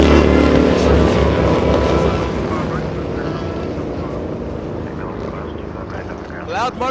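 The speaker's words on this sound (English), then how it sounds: "Loud motorcycles there, did you hear them?" Loud motorcycles roar past near a busy airport, a heavy engine rumble that starts strong and gradually fades into the distance, with continuous background traffic noise and a brief rising whine near the end.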